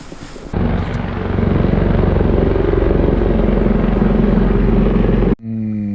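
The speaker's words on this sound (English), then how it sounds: "The chopper left." A helicopter flies away with a loud, steady rotor drone and thrum. It starts suddenly, holds for nearly five seconds and then cuts off, followed by a brief bit of voice.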